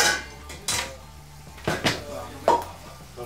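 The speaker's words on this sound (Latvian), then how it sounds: "Katliņu paņem vēl." Cooking pots clatter as they are pulled from under a gas stove in a home kitchen, several sharp metallic clanks and knocks spaced irregularly over a few seconds, with voices around them.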